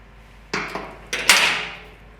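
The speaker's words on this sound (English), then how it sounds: "to remove this cotter pin, just going to straighten it out" Two or three sharp metallic hammer strikes drive a cotter pin out of a Troy Bilt tiller axle, each hit ringing briefly and fading, close and fairly loud with short gaps between blows.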